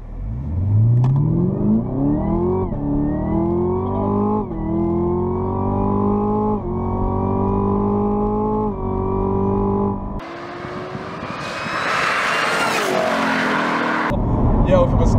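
Supercharged Camaro ZL1 with 675 hp and a cold air intake launching hard from a standstill, heard from inside the car: a loud engine roar climbs through several quick upshifts, then a hiss and a rising supercharger whine as it keeps pulling.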